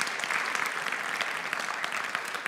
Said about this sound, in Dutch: Applaus voor zichzelf.